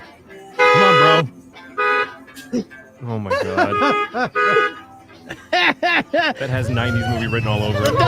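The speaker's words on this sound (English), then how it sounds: "paw out, and honking the horn" A dog presses a car horn, producing repeated short honks in an uneven rhythm, loud and close, while people talk excitedly and laugh over and between the blasts.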